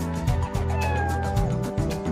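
A cat in the PS2 game Dog's Life meows repeatedly, a close, clear series of drawn-out game-audio meows over steady background music.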